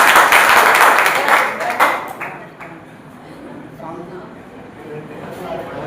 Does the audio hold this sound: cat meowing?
no